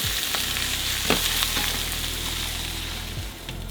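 Cabbage stir-fries and browns over high heat in a frying pan, a loud, close, steady sizzle with a few scraping clatters of the pan and spatula, no voices.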